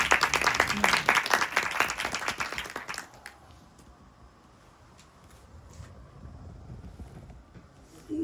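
An audience claps to welcome a speaker at a lecture, loud brisk applause for about three seconds before dropping to quiet room tone.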